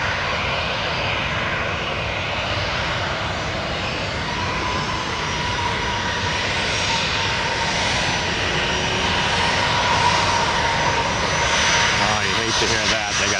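Rare Piaggio P.180 Avanti aircraft on a runway at Tampa airport heard extremely close, a loud continuous engine roar with broadband rushing noise that swells slightly later on, with people talking over it.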